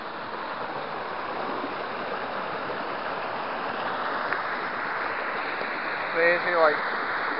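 Steady broadband rush of a low river flowing over rocks in Scotland, continuous and fairly close, with a brief higher chirp near the end.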